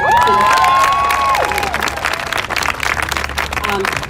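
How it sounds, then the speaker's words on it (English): Audience applause with some cheering at a state legislature advocacy day, loud and dense, with a tonal whistle or feedback-like line early on and voices mixed into the crowd. "we have to give a big round of applause for the SAVE Act"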